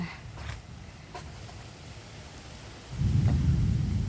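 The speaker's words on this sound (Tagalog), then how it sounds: "Nagkukulog-kulog kidlat na." A low rumble of thunder swells up after a quieter stretch and rolls on steadily, deep and heavy, with no voices.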